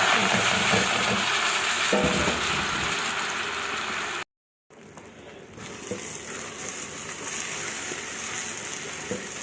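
Washed, drained rice being sautéed in a pan with spices such as bay leaf and cardamom, a steady dense sizzle with a brief cut partway through, close and loud.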